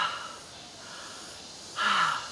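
A single deep breath is drawn and let out slowly during a relaxed breathing exercise, a soft airy exhale close to the ear that swells into a louder breathy rush near the end, with no talking.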